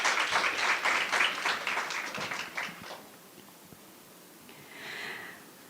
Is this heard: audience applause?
yes